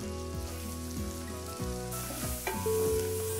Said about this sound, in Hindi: प्याज को हल्का भून लें